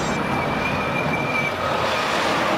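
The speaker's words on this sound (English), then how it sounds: "Shanghai Maglev, China." Shanghai Maglev, the fastest commercial train, rushes past in a steady, loud broadband roar with a thin high whine running through it, continuous for the whole stretch and without voices.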